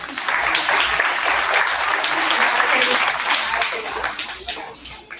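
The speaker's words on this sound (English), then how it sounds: "Let's give her a round of applause." An audience applauds steadily, dense clapping at full strength that thins out and fades toward the end.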